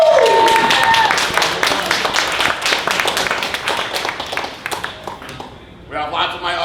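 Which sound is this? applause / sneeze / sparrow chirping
applause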